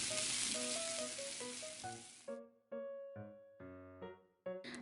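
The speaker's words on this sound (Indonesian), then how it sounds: "tumis sampai harum" Shallots, garlic, chili and scallions sautéing in hot oil make a loud, hissing sizzle for about two seconds, then the frying cuts out and bright musical notes take over.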